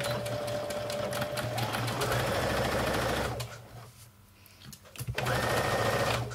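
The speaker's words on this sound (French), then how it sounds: "je vais coudre directement sur le point" A sewing machine stitches a small dart in fabric, its steady rapid needle whir running for several seconds, pausing briefly, then starting again close and clear.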